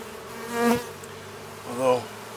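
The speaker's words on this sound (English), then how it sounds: "bees aren't very happy with me right now" Honeybees from an opened, partly dismantled backyard hive buzz past close to the microphone in two brief swelling passes, a whining hum over a faint background drone.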